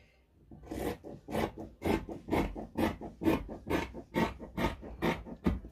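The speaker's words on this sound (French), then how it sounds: "En fait, j'ai un ciseau qui coupe mieux." Scissors cut through skirt fabric in a regular series of about a dozen rasping strokes, each a close, rough snip-and-drag, with no voices.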